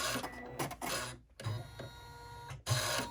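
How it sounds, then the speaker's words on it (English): Embroidery machine stitching a flat-bottom bag in the hoop as the presser foot travels back and forth, a steady mechanical whirr in two bursts split by a brief pause, close and loud. "you need to be careful and mindful of your presser foot going back and forth across this"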